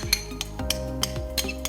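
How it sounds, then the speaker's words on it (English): Metal utensil clinks and taps against a pot while mashing boiled potatoes with oat milk and vegan margarine, a series of bright knocks in an uneven rhythm, with no talking. "Now we're going to mash the potatoes."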